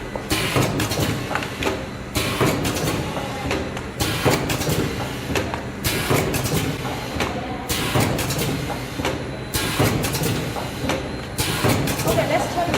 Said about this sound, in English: And this is our liquid packing machine.